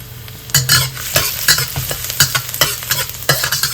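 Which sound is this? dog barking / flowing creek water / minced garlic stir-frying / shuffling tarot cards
minced garlic stir-frying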